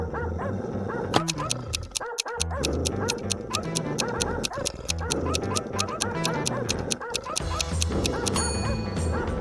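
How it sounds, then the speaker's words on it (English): A pack of dogs barks frantically and nonstop, loud, overlapping yaps and woofs bursting in quick irregular rhythm, as if the animals have gone out of control. "Suddenly, the dogs went out of control. They tore the lab down."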